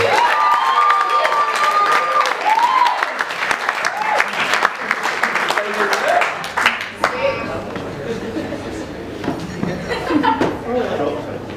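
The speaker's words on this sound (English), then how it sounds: "Would you please give a big round of applause to Mr." Wedding guests in a reception room break into loud, sustained applause with cheers, whoops and scattered shouts and laughter, the clapping continuing steadily throughout as voices call out over it.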